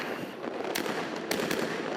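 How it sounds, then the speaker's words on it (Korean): New Year fireworks shot high into the sky burst in a dense, continuous crackle, with a few sharper bangs standing out against a steady roar of distant explosions. "새해엔 모든 일들이 폭죽처럼 잘 터지기를 바라는 마음을 담아 불꽃을 하늘 높이 쏘아 올린다"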